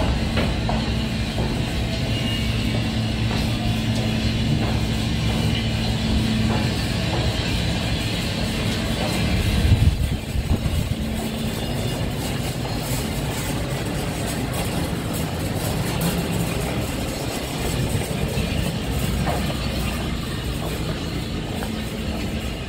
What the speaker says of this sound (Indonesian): Ini mesinnya ya, mesin utamanya ya.